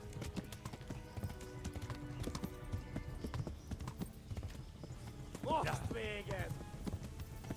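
Horse hooves clip-clop steadily at a gallop in the video game Kingdom Come: Deliverance, a quick, even rhythm under a voice talking, with a brief whinny near the end.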